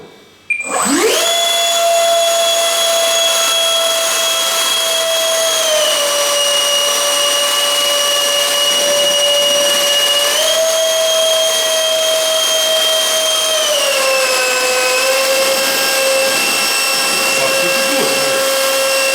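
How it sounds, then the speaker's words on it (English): A pair of 64mm electric ducted fans on a crash-repaired RC SR-71 Blackbird model scream under a thrust test. The close, loud, steady whine shifts pitch in several throttle steps, dipping and recovering. "You can hear it right away how one EDF makes different sound."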